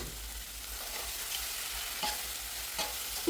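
Chicken and prawns frying together in a pot for biryani, giving a steady, even hiss of hot oil with faint stirring movements, close by and continuous throughout.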